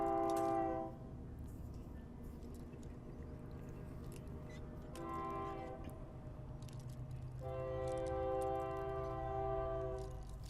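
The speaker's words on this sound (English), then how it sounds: "there's the train" Freight train passing at a distance, with low rumble throughout and three horn blasts, one short and two long, under steady background noise.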